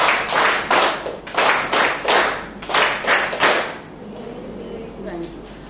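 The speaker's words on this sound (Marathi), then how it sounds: "जोरदार टाळ्या एकदा तुमच्या स्वतःसाठी वाजवा" An audience at a cervical cancer awareness talk at PHC Panvel claps for itself in loud, rhythmic unison bursts, about eight beats, then falls quiet as a voice speaks faintly.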